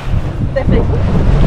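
Heavy wind roar and rushing water as a boat pounds through waves on Lake Biscarrosse, loud and continuous with a splash of spray.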